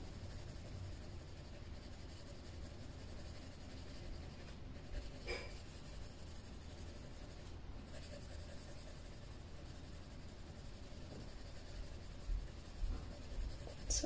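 Colored pencil lightly shading over a drawing: a steady, soft, close scratchy rubbing that runs continuously at low volume with no talking.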